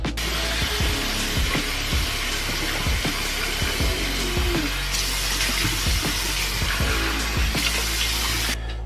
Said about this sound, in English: Now I'm gonna go ahead and rinse my face.